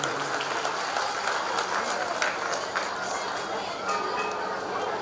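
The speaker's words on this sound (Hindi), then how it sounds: "तालियां कमजोर न पड़े, हम सब लोग की ओर से होनी चाहिए।" Steady crowd applause at a festival inauguration in the Mithila region of Bihar, a dense continuous wash of clapping from many hands held at an even level throughout, with voices mixed in.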